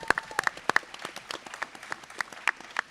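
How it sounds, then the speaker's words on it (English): Scattered clapping from an audience at a GunCon convention panel, a loose handful of sharp, close hand claps in an irregular rhythm over a quiet room. "Let's give them a big round of applause."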